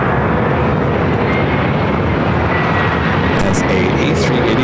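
An Airbus A380 airliner at LAX gives a loud, steady broadband jet roar that fills the whole stretch, with a voice talking faintly over it.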